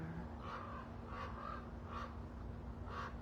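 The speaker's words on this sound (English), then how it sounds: "And the crows agree." Crows caw four times in an even, spaced rhythm, fairly far off and faint over a quiet outdoor background hum.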